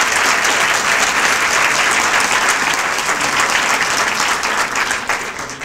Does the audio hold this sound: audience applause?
yes